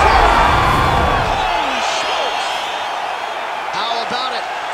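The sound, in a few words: crowd cheering after a TKO, from video game EA UFC 5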